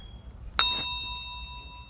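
Notification bell sound effect: a single bright, close ding that rings out clearly and then fades over about a second, with nothing else heard.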